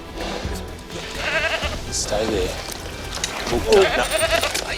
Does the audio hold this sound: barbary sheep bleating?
yes